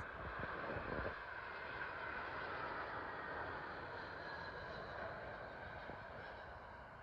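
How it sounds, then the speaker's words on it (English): A British Airways Airbus A320 arriving on approach to London Heathrow, a steady distant jet roar that holds level and slowly fades, with no voices. "Coming in now is British Airways Airbus A320 from Munich."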